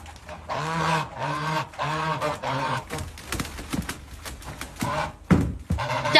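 A duck calls in a run of loud, harmonic honking quacks, several in quick succession at the start, then more scattered calls over background noise.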